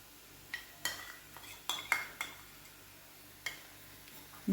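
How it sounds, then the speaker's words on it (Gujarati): Sour yogurt is stirred into a potato gravy, a spoon clinking and scraping against the pot in a handful of short, irregular knocks over a quiet background. "તરત જ એને હલાવી લેવાનું છે."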